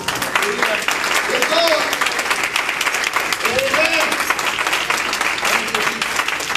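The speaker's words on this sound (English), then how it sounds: "Give Lord a hand clap offering for his word" A church congregation claps hands together during a service, a steady dense wash of applause lasting throughout, with voices and some vocal calls rising above the clapping.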